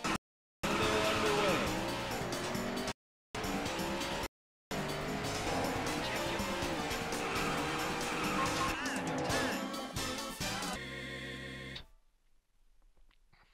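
Race car engine roaring and tires squealing in the arcade racing game Daytona USA, loud and continuous with brief dropouts and game music, ending in a sharp cutoff to near silence.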